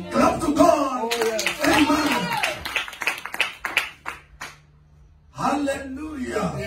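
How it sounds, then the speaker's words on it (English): A church congregation claps together while a preacher speaks loudly over it, then a brief near-silence before talking resumes. "Clap to God."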